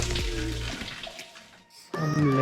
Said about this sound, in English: I'll just take you near the Nandi Vigraha where the water is coming out from.